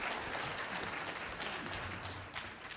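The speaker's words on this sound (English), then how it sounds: "Will you give them a very nice round of applause?" Audience applause filling a short stretch, dense steady clapping from a crowd, fairly faint and even without pauses.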